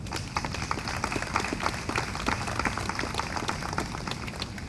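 Crowd applause at an outdoor September 11 remembrance and day-of-service ceremony, a steady dense patter of many hands clapping for several seconds with no pause.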